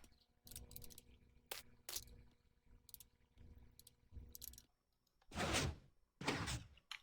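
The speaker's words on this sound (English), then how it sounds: "Our door's open." A Minecraft piston door works in a series of short mechanical thunks and sliding bursts, several quick pistons firing in groups, then two longer, louder hissing slides at the end, close and clear.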